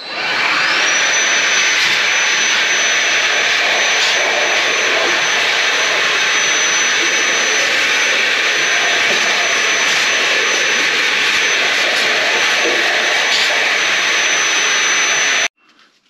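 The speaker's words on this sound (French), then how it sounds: "Donc mon aspirateur, je lui mets son tuyau au bout." A vacuum cleaner with a hose fitted, cleaning out a pellet stove, roars at a steady, loud, high-pitched whine for about fifteen seconds before cutting off abruptly.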